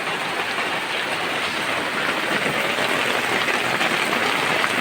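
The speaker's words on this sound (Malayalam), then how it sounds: "നല്ല മഴ തുടങ്ങിയിട്ടുണ്ട്." Heavy rain pours down at dawn outside a home kitchen, a dense, steady hiss of falling water with no pauses, fairly loud and unbroken throughout.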